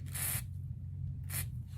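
Two short hissing bursts of WD-40 sprayed from an aerosol can onto a 2007 Toyota FJ Cruiser's mass air flow sensor, close up, with a brief pause between them.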